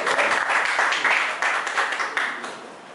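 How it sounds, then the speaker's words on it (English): An audience at a Festac marathon press conference claps for a few seconds in an uneven burst that thins and fades toward the end. "Please, a round of applause for him, please."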